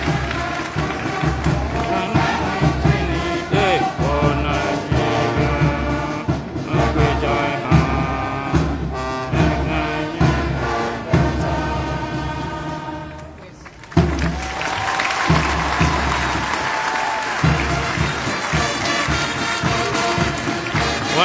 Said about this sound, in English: See the crowd reaction.